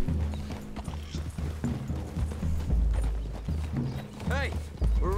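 Horse hooves clip-clop at a steady gait in Red Dead Redemption 2, close by. They sit under game music and voices, with a brief creak.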